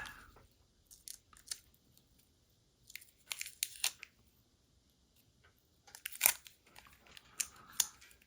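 A fresh strip of tape is torn off during work on an MPC 1971 Dodge Demon 340 model kit, giving a few short, crisp ripping and crackling bursts spread across quiet pauses, close and fairly soft.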